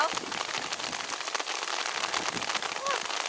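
Hail pelts down steadily during a hike in England, a dense, close rattle of countless small ice pellets striking ground and clothing. Voices speak over the downpour throughout.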